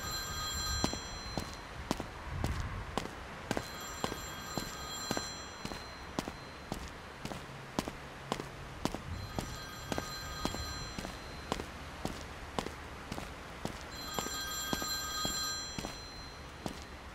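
An old-style telephone bell rings repeatedly in the first-person crime game This is the Zodiac, each ring cycle repeating steadily over a bed of sharp, regular footsteps and faint background noise.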